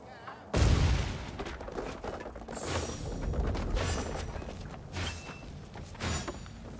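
Gunshots and impacts in the video game Warhammer Vermintide, with a heavy blast followed by scattered loud cracks and thuds across a busy battle mix, while game voices speak.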